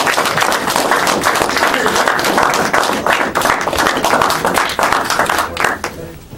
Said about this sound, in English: A round of applause for this young man.